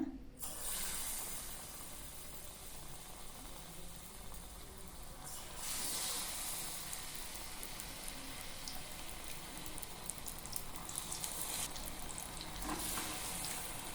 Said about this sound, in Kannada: ಎಣ್ಣೆಯಲ್ಲಿ ಕರಿತೀವಲ್ವ, ಬೇಗ ಸೀದೋಗ್ಬಿಡುತ್ತೆ.